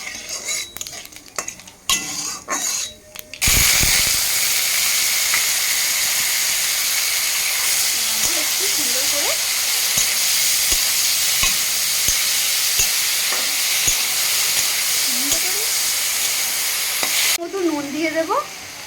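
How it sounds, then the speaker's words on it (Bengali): Potatoes fry in a hot pan with a loud, continuous sizzle, with scraping stirs from a utensil now and then; a voice speaks briefly before the sizzling and again at the end. "আলুটা চাপা দিয়ে রেখে রেখে তিন চারবার মতো নেড়ে নিয়েছি"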